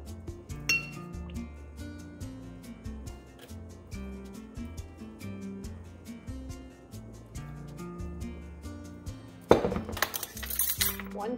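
A metal utensil clinks and scrapes against a bowl while mixing a chili lime shrimp marinade of extra virgin olive oil, lime juice and lime zest, with repeated light taps and a louder clatter near the end.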